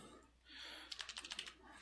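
A web address being typed on a computer keyboard: a quick run of about eight faint, light key clicks in the second half after a soft hum, with no talking.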